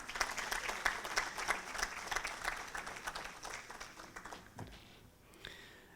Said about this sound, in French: J'aimerais bien applaudir le professeur Sadr Sessi qui est là.